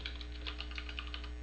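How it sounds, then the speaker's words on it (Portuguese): Quick, even keystrokes on a computer keyboard, a close, light patter of clicks over a low background hum, with no voices. "Já começa aqui digitando"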